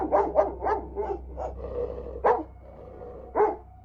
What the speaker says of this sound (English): we heard the dog barking